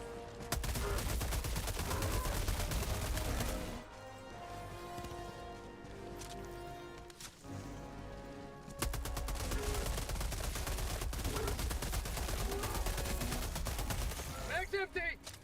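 Dense bursts of automatic gunfire and rapid volleys fill a Helldivers II firefight, loud and nearly continuous, with a brief lull in the middle before the shooting resumes at full intensity.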